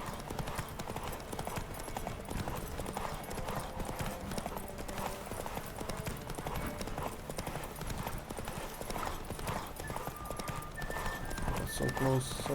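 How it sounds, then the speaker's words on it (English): In The Witcher 3, the horse Roach gallops during a race, steady rhythmic hoofbeats at close range running throughout, with game sounds and someone talking over it, plus a short chime near the end. "Come on, Roach, you have the stamina for this whole race"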